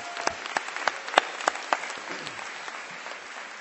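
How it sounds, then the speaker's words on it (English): Scattered hand claps build into applause from a crowd at a spring commencement ceremony, with a few sharp claps standing out at first before settling into steady clapping. "Give yourselves a round of applause"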